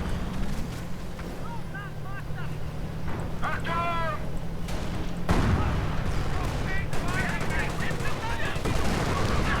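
A Nebelwerfer rocket artillery barrage in a World War II real-time strategy game, rumbling bursts and explosions over a continuous din of battle, with whistling rocket tones and a narrator speaking over it.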